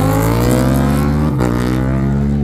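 Two sport motorcycles, a BMW S1000R and a KTM Super Duke, race down a drag strip at a desert rally, their engines roaring loud and close with a steady high-revving drone and a brief dip partway through.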